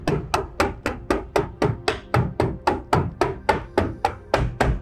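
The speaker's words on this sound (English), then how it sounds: "So we're gonna go ahead and staple off the bottom." A staple gun fastening roofing underlayment along the bottom edge of a shed roof, firing about fourteen sharp, evenly spaced thuds in a quick steady rhythm, close and loud with no talking.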